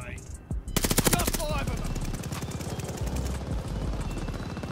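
Suppressed gunfire from a Type 100 submachine gun in Call of Duty Vanguard, heard as a rapid burst of close, dense shots early on followed by continuous game battle noise and rumbling.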